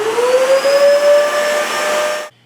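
Dyson DC14 upright vacuum cleaner switched on after a power switch repair, its motor whining steadily with a rising pitch, then cutting off abruptly near the end.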